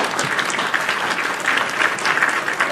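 Steady applause from an audience at a Cleveland music night, dense hand-clapping filling the room without a break for nearly three seconds.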